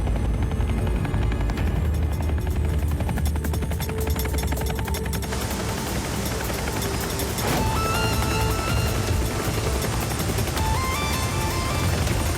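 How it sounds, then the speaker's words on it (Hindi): Cartoon helicopter flying, a steady loud rotor chop and engine whine running continuously throughout, dense and close with no pauses. "इसे हेलीकॉप्टर मोड पर और नहीं उड़ा सकता।"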